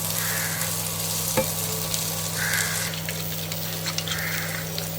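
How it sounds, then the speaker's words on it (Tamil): Garlic sautéing in a pan for chicken ghee roast gives a close, constant sizzle with occasional spoon scrapes, a steady hum beneath and faint crow caws in the background. "கிட்டத்தட்ட 4-5 நிமிஷம் உள்ளி போட்டு வதக்கணும்"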